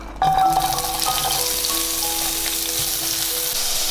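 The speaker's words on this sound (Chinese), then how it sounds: "然后再把玉米跟那个胡萝卜放进来炒" Steady, close sizzling of corn and carrot stir-frying in a hot pan, with a sharp hiss at the start settling into a continuous crackle, occasional faint tonal clinks.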